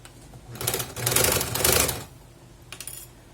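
A sewing machine stitching a patchwork gas cylinder cover runs in a fast, steady mechanical rattle for about one and a half seconds, pauses briefly, then gives a short final burst, close and fairly loud with no talk.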